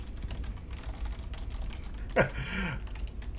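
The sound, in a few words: typing on a computer keyboard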